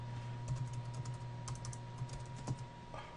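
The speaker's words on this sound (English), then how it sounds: "let's type in username" Keys tap on a computer keyboard in short bursts while a username is entered, faint and close over a steady low electrical hum, with no talking.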